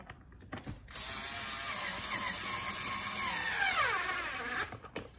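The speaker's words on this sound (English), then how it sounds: "I've gotta use the long Allen wrench to get it in there because of the distance." An Allen wrench with an extender turning a bolt on a Staples Kelburne office chair during assembly, giving a sustained close mechanical whirring grind with a faint high whine, starting and stopping with brief clicks at each end.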